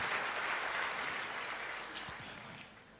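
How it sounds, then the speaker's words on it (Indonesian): Congregation applauding God during a church service, a broad wash of many hands clapping that fades gradually, with a sharp tap near the end. "Yang mau tepuk tangan dulu dong buat Tuhan kita yang luar biasa."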